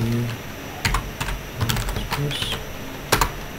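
Fast computer keyboard typing while code is entered, irregular clicks and clacks in short bursts, close and moderately loud, with faint room noise and soft background speech beneath.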